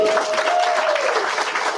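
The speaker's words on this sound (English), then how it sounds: "So give them a round of applause again" An audience claps at an annual award ceremony dinner, a dense, loud burst of applause with a faint tone sliding through it near the start.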